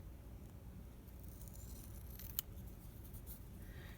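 Scissors snip around the edges of a homemade puffy-tape sticker, soft and close, with one distinct clip standing out over a low steady background hiss.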